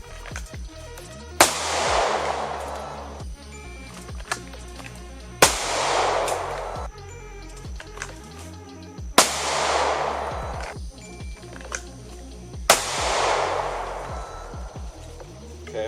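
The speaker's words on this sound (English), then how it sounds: "I'm shooting to the left too much." A handgun fired outdoors at a range while trying out a concealed-carry holster, four loud reports spaced a few seconds apart, each followed by a long rolling echo, with no talking.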